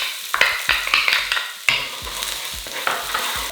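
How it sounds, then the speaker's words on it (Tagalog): Garlic sautéing in hot oil in a wok, loud close sizzling with a string of quick spatula scrapes and clacks at an uneven rhythm, no voices. "Although obvious na nagigisa tayo."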